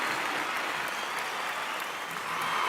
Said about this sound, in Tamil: ஒரு மிகப்பெரிய கைத்தட்டல் கொடுக்கணும்.